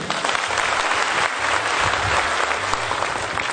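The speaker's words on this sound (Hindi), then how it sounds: "तो एक शानदार ताली इनके लिए।" Loud sustained applause from a seated audience at a stage event rolls on steadily for several seconds, dense clapping with a low hum underneath and no speech over it.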